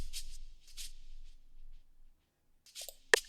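A chopped-up 80s percussion loop played off the grid: a few scattered, soft shaker-like bursts with gaps, then a short silence and a sharper closing hit, quiet and alone with no talk.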